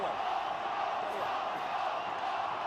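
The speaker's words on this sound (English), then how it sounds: "Well, you can hear what the crowd think." A rugby crowd at a Gloucester home match roars after a penalty try against Saracens, a loud sustained mass of booing and shouting with no break.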